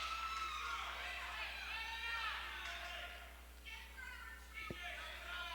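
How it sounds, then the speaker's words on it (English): Crowd noise fills a 1993 girls high school basketball game against Lewiston, a steady wash of voices and shouts with a brief sharp thump near the end. "Crowd is certainly into this one."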